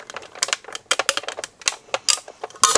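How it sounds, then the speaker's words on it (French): A manual die-cutting machine presses a cutting die through a paper card panel. Rapid, irregular clicks and crackles sound close and fairly loud. "Je place la matrice de coupe sur le fond et je passe le tout dans ma machine de coupe."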